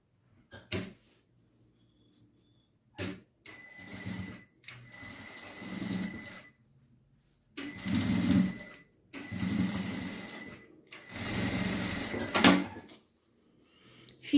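A sewing machine stitches along both edges of fabric for a trapezoid pouch, running in several separate bursts of rapid whirring with clicks and pauses between them.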